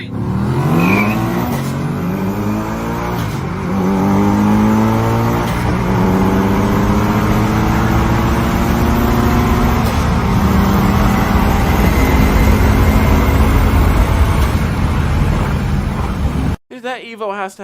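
A Mitsubishi Evo accelerates hard in a roll race against a Mustang, its engine revving loud and close in rapid rising sweeps with frequent quick gear shifts, ending in an abrupt cutoff.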